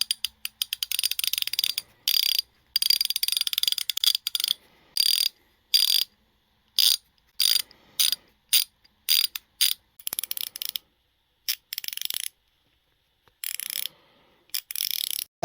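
Duratech mechanics' ratchets click close up in quick, fine-toothed bursts of rapid ticking, separated by short silent pauses throughout.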